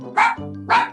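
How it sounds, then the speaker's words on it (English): A dog in a kids' farm animal game barks twice, short, close and loud, with a gap between the two yaps. "It was a dog!"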